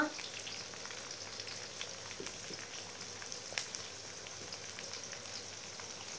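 Onions and tomatoes fry in a pan for rajma, giving a steady, soft, even sizzle that runs throughout without any talking.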